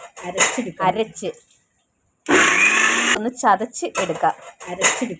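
A kitchen mixer jar roars loudly for about a second while crushing garlic, curry leaves and ginger, with someone talking before and after the burst.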